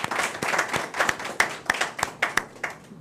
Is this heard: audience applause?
yes